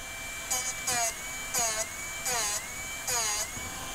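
A Darex Drill Doctor 750X grinds a split point onto a drill bit in five short bursts of high whirring, each pause leaving a steady hum, close and fairly loud.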